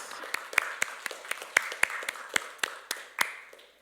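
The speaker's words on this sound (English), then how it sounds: "give them a round of applause" Sparse, scattered clapping from a small church congregation at a Father's Day Sunday service, a dozen or so distinct claps in an uneven rhythm, fairly faint and close.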